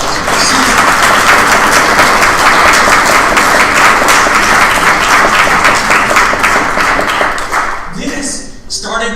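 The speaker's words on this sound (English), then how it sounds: "By the way, let's give Carol Mitchell a round of applause." Loud, close applause and clapping from a symposium audience fill the room for about eight seconds before fading out, with a voice and a few thumps at the end.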